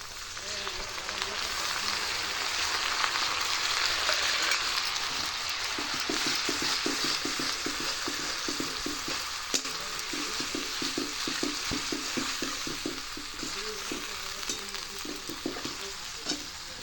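Ginger garlic paste frying in a little oil for a chicken curry, a steady close sizzle with a rhythmic scraping stir pattern through the middle, with speech in places.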